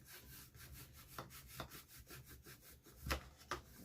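A paper liner being smoothed down on a desk organizer gives faint, repeated rubbing strokes in an irregular rhythm, close by and quiet, with no talking.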